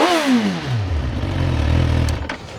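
A 2007 Suzuki GSXR1000 sport bike engine blips up then settles back, a quick rising rev that falls into a lumpy, close idle with some mechanical clatter.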